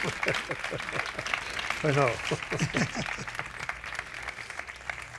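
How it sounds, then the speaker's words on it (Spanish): An audience at a book fair gives a round of applause, with steady, dense clapping running throughout while someone speaks over it. "Bueno, yo creo que un aplauso a Manuel"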